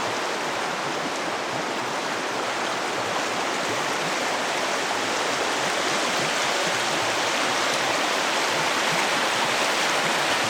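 The Kaya River rushes along on the rocky Chilkoot Trail, a loud, dense, unbroken roar of flowing water heard up close, with no voices.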